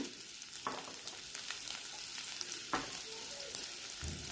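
Finely chopped ginger and garlic fry in hot oil in a pan, giving a steady close sizzle broken by occasional sharp crackles and spatters, with no voices over it.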